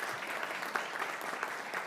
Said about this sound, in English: All right, I'll clap it up.